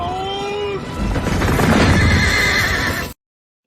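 A horse neigh sound effect, dropped in as a comic sting: a loud whinny that rises and trails off, backed by clattering hooves, cutting out abruptly after about three seconds.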